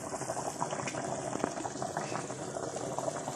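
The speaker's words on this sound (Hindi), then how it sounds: "यहाँ पानी में बॉईल आ गया है" A pot of water comes to a rolling boil for a degi-style white mutton pulao, bubbling and gurgling continuously at close range with small irregular pops.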